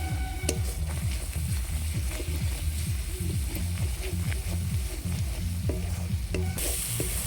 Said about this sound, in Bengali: মশলাটা প্রায় কষানো হয়ে গেছে, আর সামান্য কষালে হয়ে যাবে।